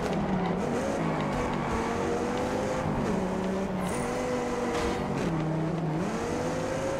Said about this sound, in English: We have another car coming very closely now.